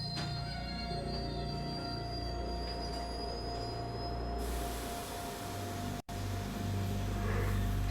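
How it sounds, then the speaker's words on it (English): Train running in Metal Gear Solid 4, a steady loud rumble of rail wheels with a thin squealing tone, the sound shifting midway and briefly cutting out near the end, no voices. "A train. The train's running?"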